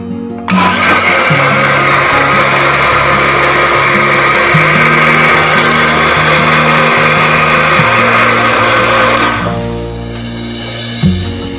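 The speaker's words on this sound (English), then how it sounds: "We need to grind the pruning crop using the blender." A blender grinds pruning waste loudly and continuously, its motor pitch shifting in steps as the load changes, then winding down near the end.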